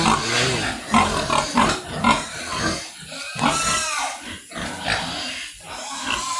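Several young piglets grunt and squeal on a pig farm in a continuous, overlapping chorus of snorts and squeals from close by, with no talk over them.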